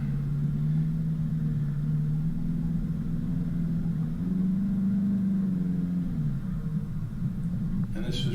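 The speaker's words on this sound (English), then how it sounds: "The car's moving all over the place and throwing the odd bit of mud up on the bonnet." A car struggles uphill through slippery wet mud at Tallarook, its engine droning loud and steady at mid pitch with shifting revs as the wheels lose traction, continuous throughout.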